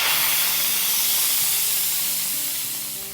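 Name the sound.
pressure cooker venting steam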